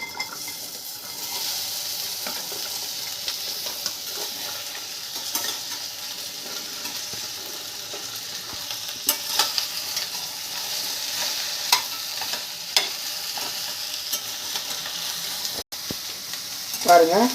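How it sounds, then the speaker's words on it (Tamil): Okra sautéing in a little oil in a hot kadai: a steady sizzle and fry with frequent light scrapes and clinks of a spatula against the pan, close and fairly loud, with no voices. "முதல்ல கொஞ்சமாக எண்ணெய் சேர்த்துட்டு முதல்ல வெண்டைக்காயை மட்டும் வதக்கி எடுத்துக்கலாம்"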